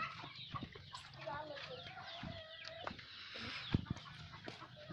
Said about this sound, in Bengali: এখানে আমার কিছু অসুস্থ মুরগি রাখা আছে